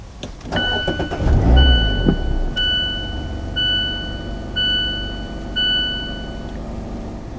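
A 2019 Mazda MX-5 Miata starts at the push of a button: a brief low crank and engine catch close by, followed by a run of repeated electronic chimes and beeps over a quiet idle.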